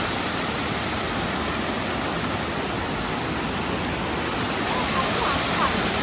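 A steady, dense roar of falling water fills everything, constant and unbroken like a nearby hillside waterfall.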